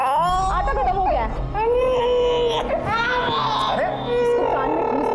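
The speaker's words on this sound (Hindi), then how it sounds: "बच्ची रो रही है।" A baby girl cries loudly and continuously in a home where food has run out, with wavering wails and sobs close to the microphone, and a little background speech murmurs beneath her.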